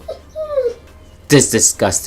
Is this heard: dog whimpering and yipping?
yes